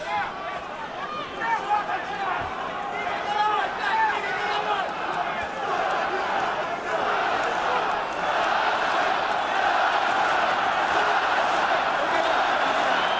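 A Russian arena crowd roars steadily throughout a Klitschko versus Povetkin heavyweight boxing match, a dense, continuous wall of cheering and chanting that swells louder in the second half.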